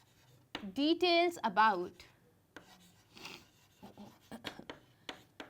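A teacher's marker or chalk scratches across a board during a chemistry lesson, with short rubbing strokes heard after a stretch of speech and continuing in quick bursts.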